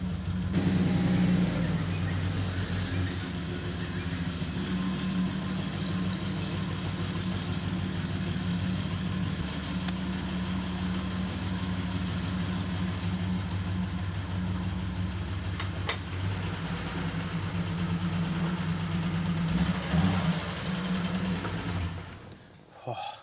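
The Barra engine fitted in a Bedford van idles steadily for the whole stretch with a low, even rumble, close and loud, then cuts off abruptly at the end.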